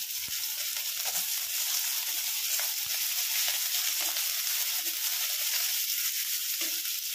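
Small-cut raw green chilies and spices fry in hot oil for a jackfruit chop, giving a steady, close sizzle with a few soft stirring clicks.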